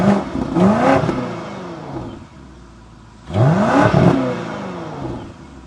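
A 2025 BMW X6 M60i revs hard through its quad exhaust outlets, two loud rising roars separated by a quieter idle, close and with no talking.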